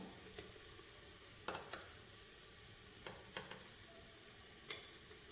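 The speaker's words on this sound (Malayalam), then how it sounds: "എല്ലാം കൂടെ നന്നായിട്ടൊന്ന് വഴറ്റിയെടുക്കാം." Vegetables and spices for a vegetable biryani sauté quietly in a pan, a soft steady sizzle broken by several light scraping and tapping stirs at irregular intervals.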